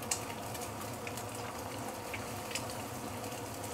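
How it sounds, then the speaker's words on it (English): An egg frying in heated oil in a pan, with a steady soft crackling hiss throughout and small pops scattered over it, close and continuous, with no talk. "Once the oil is heated up a little bit, you can put in the egg."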